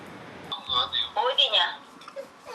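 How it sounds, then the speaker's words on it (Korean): A telephone rings with an incoming call near a market, a bright repeated ringtone pattern heard up close with a voice talking over it. "아들한테 전화가 옵니다."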